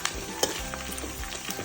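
Tomatoes fry in oil in a pan for vermicelli upma, giving a brief close sizzle with a soft spatula tap or two and no talking.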